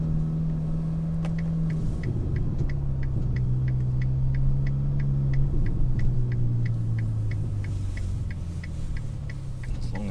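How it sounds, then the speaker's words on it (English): Ferrari Portofino M engine idling low and steady while being manoeuvred into a parking space outside the Ferrari factory, a smooth droning hum whose pitch sags slightly over time, with a faint regular ticking above it and no talk. "manoeuvring a Ferrari outside the Ferrari factory"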